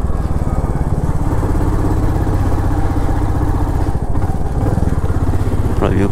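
A motorcycle engine idles steadily at close range on the road up to Tiger Hill in Darjeeling, a constant loud chugging throb with faint clatter and no talking.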